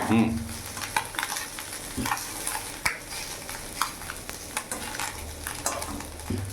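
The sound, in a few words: puti fish frying in a pan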